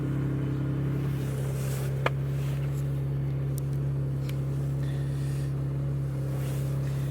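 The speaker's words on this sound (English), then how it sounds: "So I've got the car running" Mitsubishi GTO engine idling while connected to a laptop for ECU tuning, a steady low droning hum with even, unbroken tone throughout, no voices over it.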